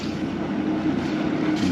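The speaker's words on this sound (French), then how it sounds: "je laisse tourner le moteur" A sailboat's engine runs steadily while the boat leaves an anchorage in Greece, a constant low drone with some wind noise and no talk.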